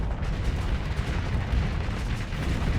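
Missiles launching in the space combat game Starsector, a continuous, heavy roar of rumbling blasts and booms at steady loudness, with no voices.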